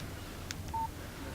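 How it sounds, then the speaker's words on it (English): A short electronic beep sounds once as a phone message alert in the Alan Wake game, a brief clean tone over a low steady hum. "Text message from Barry."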